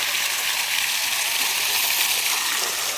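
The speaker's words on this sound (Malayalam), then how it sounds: "വെള്ളച്ചാട്ടം" Rushing water from a waterfall on an outing in Palakkad, a dense, even hiss of falling and splashing water, steady and close, with no voices.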